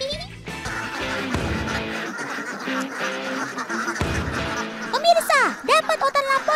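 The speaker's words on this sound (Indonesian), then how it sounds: "lebih efisien untuk mengangon ribuan bebek ini" A large flock of thousands of farmed ducks being herded: dense overlapping quacks and honks, loud and close, with a voice talking over the calls throughout.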